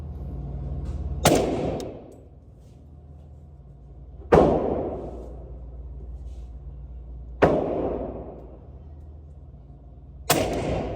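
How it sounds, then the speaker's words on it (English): Four suppressed 8.6 Blackout rifle shots with 300-grain FMJ rounds, each a sharp loud crack with a short ringing decay, spaced about three seconds apart outdoors. "we have test fired our gun and it runs suppressed"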